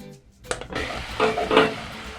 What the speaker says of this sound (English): We are going to add our meat,